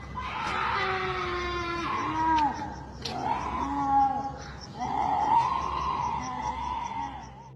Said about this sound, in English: something truly awful would have to be happening in the darkness to cause an ordinary human to let out such shrieks